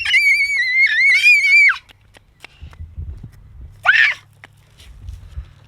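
A girl screams outdoors in a loud, wavering cry lasting nearly two seconds, followed by a second short shriek, with faint footsteps and low rumbling between.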